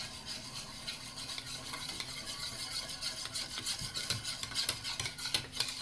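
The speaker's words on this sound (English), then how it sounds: "now we're going to mix" A spoon or whisk stirs a dabo kolo dough mixture of oil and baking powder in a bowl, a continuous close scraping and rubbing with quick rhythmic strokes and no talk.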